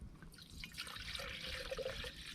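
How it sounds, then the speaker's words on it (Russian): Water poured into a 1.5-litre camping pot beside a campfire, a steady close trickle and splash that fills the short moment without any talk. "Сразу наливаем воды."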